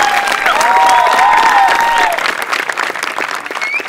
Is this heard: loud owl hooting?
no